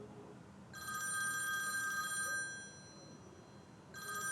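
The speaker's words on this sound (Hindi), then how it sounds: "कॉल आ रही है, फोन सुन लूं?" A telephone rings in two bursts of electronic trilling, a long ring followed by a pause and the start of another, fairly close and clear.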